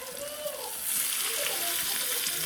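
Chopped onion and tomato sizzle and fry in a pan, a steady close hiss that grows slightly louder after the first second, with faint kitchen noise beneath.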